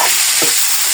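Turmeric powder, other spices and dried red chili frying in oil in a pan, a steady loud sizzle with a brief stirring scrape, close and continuous.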